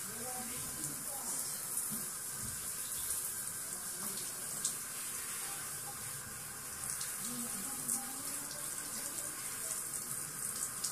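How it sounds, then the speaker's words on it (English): Water runs steadily from a tap, rinsing debris out of dreadlocks under cool water, a continuous close splashing wash that carries on for the whole stretch with small shifts as the stream hits the hair. "Rinsing all the debris off of the hair"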